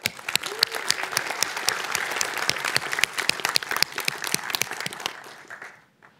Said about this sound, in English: Please, big applause for Michał Bartkowiak.